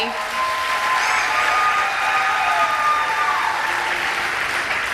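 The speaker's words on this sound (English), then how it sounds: "Please give her a round of applause, Miss Michigan 2003." An audience at the Miss Michigan Pageant gives steady, loud applause honoring a former Miss Michigan 2003, continuous clapping filling the hall with faint voices mixed in.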